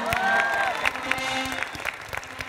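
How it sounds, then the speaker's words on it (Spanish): Studio audience applause on a television game show, lively clapping with a few cheers, close and moderately loud, with a brief whistle-like tone at the start. "¡Un aplauso para Ana!"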